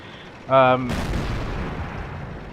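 Modded tank cannon in World of Tanks firing once, a single loud sharp blast followed by a rolling rumbling decay, with a brief voice just before it.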